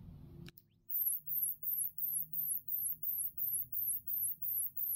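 Molemo remote-control ultrasonic pest repeller in test mode mimicking rodent sounds: after a button click, a rapid series of shrill, piercing chirps repeats steadily about twice a second, loud and close with a low hum underneath.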